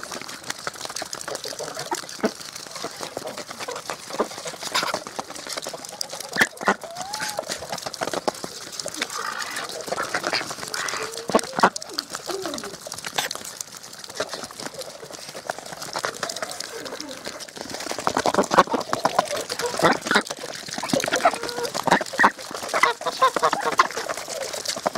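Geese and ducks on a farm, with scattered honks, quacks and clucks over running water and rustling, fairly close and continuous for the whole stretch, mixed with occasional faint voices.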